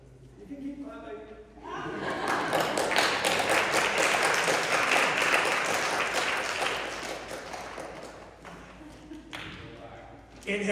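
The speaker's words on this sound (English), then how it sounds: "You can keep clapping." Audience clapping at a music studio recital swells from quiet into a sustained round of applause, then tapers off to scattered claps and near silence at the end.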